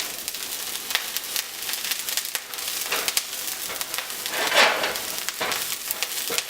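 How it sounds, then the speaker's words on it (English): Vegetables and garlic frying in olive oil in a pan, giving a steady close sizzle with crackling pops and a brief louder surge of hissing, with stirring, and no talking. "So we're going to add in all of my veggies. Okay, get that nice sizzle going."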